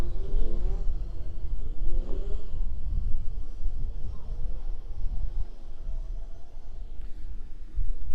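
F2 stock cars race around the Taunton oval, a steady roar of engines with rising revs and passing cars that stays loud and continuous throughout.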